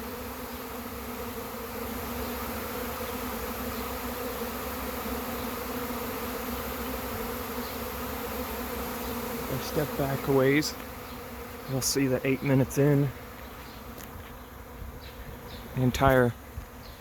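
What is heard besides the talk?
honeybee swarm buzzing while moving into a trap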